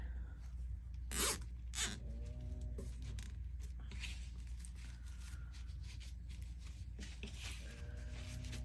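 A plastic zip tie is ratcheted tight while assembling a paper daisy flower wall hanging, giving a couple of short, sharp zipping rasps up close, with quieter scrapes and handling sounds afterward.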